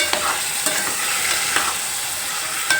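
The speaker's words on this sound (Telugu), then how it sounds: "ఇప్పుడు కాకరకాయలు వేసిన తర్వాత బాగా ఇది కలుపుదాం ఒకసారి" Bitter gourd pieces fry in a pan under a loud, dense sizzle, with periodic scrapes and taps of the spatula as they are stirred, close and with no voices.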